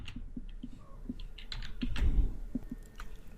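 Keys click in a fast, uneven run on a computer keyboard as someone types JavaScript code. The tapping is close and fairly quiet, with a slightly louder cluster in the middle.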